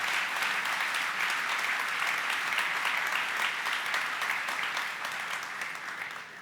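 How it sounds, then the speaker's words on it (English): Sustained applause from a conference audience at a fireside chat with Mistral AI's CEO and Luxembourg's prime minister, dense and steady throughout before easing slightly at the end. "could we actually give a huge round of applause for this strategic partnership?"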